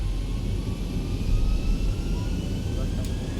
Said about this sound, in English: we're going to keep it as a rolling takeoff here